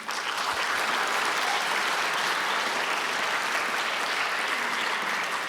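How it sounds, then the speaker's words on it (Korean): Encouraging applause from the audience at a 2018 youth law debate competition ceremony: dense, steady clapping from a sizable crowd, sustained evenly throughout with no talking. "우리 한번 격려의 박수."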